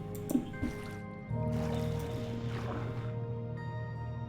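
Underwater ambience in Minecraft, with a couple of early drips and squishy bubbles, then a steady low watery drone and faint sloshing.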